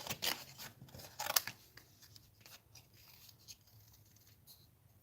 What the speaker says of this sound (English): I gotta find my scissors now, and let's go ahead and cut these out